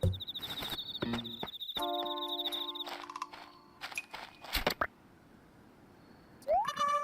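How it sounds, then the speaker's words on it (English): Chirps and electronic tones from the video game Animal Crossing: New Leaf ring out in a busy, layered pattern, with a rising sweep near the end; no voices are heard. "Got you, cricket!"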